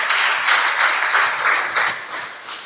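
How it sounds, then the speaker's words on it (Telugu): A church congregation at a Sunday service claps together, a dense, loud burst of applause with slightly pulsing rhythm that fades a little toward the end, no voices above it. "చప్పట్లు కూడా దేవుని స్తుతిస్తారా?"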